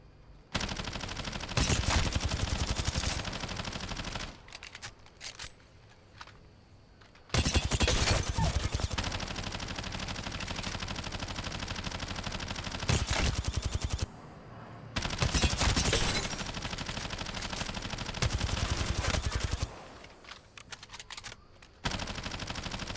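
Bullfrog SMG fired in Call of Duty Warzone, loud rapid bursts of automatic gunfire in three long sustained volleys separated by brief pauses, with no talking.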